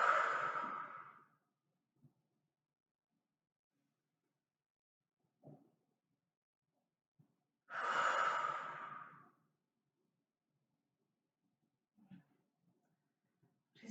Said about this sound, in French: Prenez une grande inspiration par le nez et relâchez par la bouche.